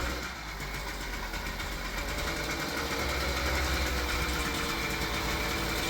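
An 80cc engine on a motorized bicycle idles steadily, a continuous buzzing, slightly knocking drone heard close for the whole stretch with no speech over it.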